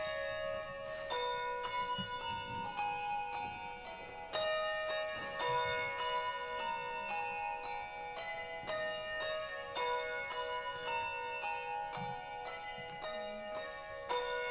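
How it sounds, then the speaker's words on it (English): A set of handbells rung in a peal as part of a New Year song: a continuous cascade of bright, ringing metallic strikes with overlapping tones, close and fairly loud, with no voices. "let the handbells ring a peal"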